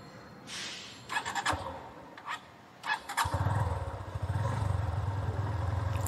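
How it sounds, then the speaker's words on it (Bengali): A motorcycle is started with the choke pulled: a few clattering starter attempts and mechanical clicks, then the engine catches and settles into a steady, rising idle that grows louder, heard close with no talk. "টান দিয়ে এবার যদি মোটরসাইকেল স্টার্ট করি"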